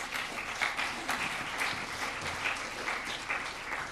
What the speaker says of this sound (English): Please, a round of applause for our panellists.